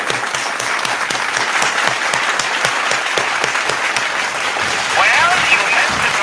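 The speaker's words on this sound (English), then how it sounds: "give him a round of applause, everybody in the chat" Audience applause as a live horror radio theater show wraps up, a dense continuous clapping with sharp individual claps running steadily throughout, swelling slightly louder near the end.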